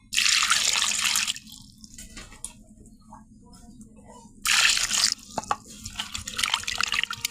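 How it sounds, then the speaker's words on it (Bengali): Bitter gourd is rinsed under a running kitchen tap, with two loud bursts of gushing water separated by quieter splashing and handling, then softer drips and trickles. "প্রথমে করলাটা ধুয়ে নেব ভালো করে।"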